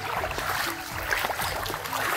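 Water splashes steadily as people wade through water pooled in a village lane, a continuous wet churning with small irregular slaps and no clear talking over it.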